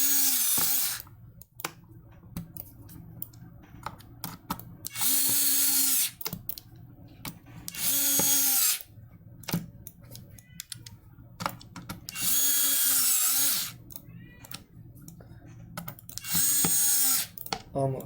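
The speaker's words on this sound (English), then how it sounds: "we can just tighten down these screws" Screws tightened during assembly of a Rana Tadpole, a small electronics kit, with several loud bursts of a power driver whirring between quieter handling sounds, and a person talking throughout.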